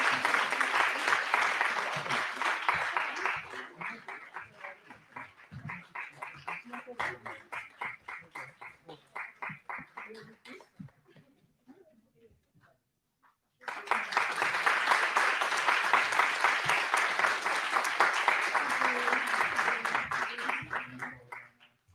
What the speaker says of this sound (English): please don't let the applause stop for the winners and participants